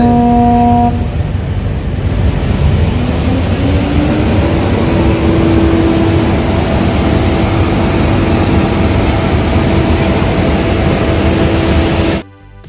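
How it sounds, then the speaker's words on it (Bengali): MV Campbell Bay leaves Port Blair, with a loud steady engine drone under sustained tonal horn-like blasts that shift in pitch, before the sound cuts off abruptly near the end. "শিপের আওয়াজটা পাওয়া মাত্রই বুঝে নিতে হবে যে শিপটা ছেড়ে দিল"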